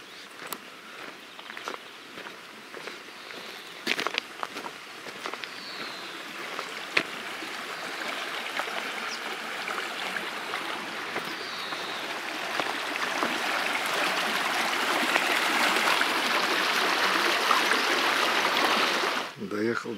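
A small river, the Ivanovka, flows steadily outdoors in the Russian countryside, a continuous close rushing and trickling that grows slightly louder toward the end, with occasional soft steps or bumps.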